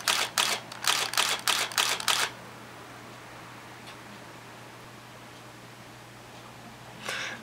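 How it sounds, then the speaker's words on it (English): A DSLR camera's shutter fires a rapid burst of about seven sharp clicks in quick succession, then quiet, with a final faint mechanical sound near the end. "I'll be taking 7 snaps that will turn on the buffer light"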